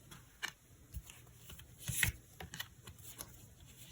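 Tarot cards shuffled and drawn by hand, soft close riffling and flicking taps in irregular bursts, quiet, with a louder card snap around the middle and no talking.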